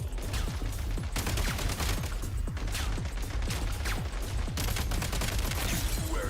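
Rapid video-game gunfire from Genshin Impact's Snezhnograd, a continuous barrage of sharp shots firing in quick succession for several seconds, close and loud with little pause.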